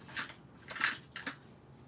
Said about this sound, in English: Oops, I need to cut it more. Hold on, let me get some scissors.